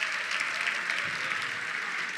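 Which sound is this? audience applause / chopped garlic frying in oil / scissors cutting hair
audience applause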